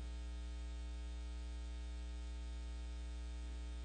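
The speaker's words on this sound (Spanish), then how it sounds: "A ver si pueden apagar estos ventiladores," Electric fans run in a room, giving a steady, faint hum and whir that holds without change throughout.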